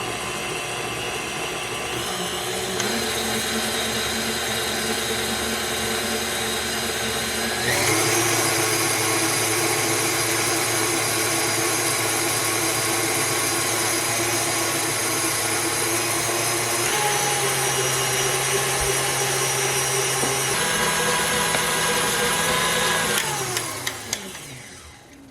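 A KitchenAid stand mixer kneads bread dough for simple sandwich bread, its motor whirring steadily and close for about twenty seconds. The pitch shifts a few times before the sound winds down at the end.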